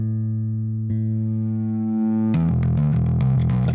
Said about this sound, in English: I just added that for distortion's sake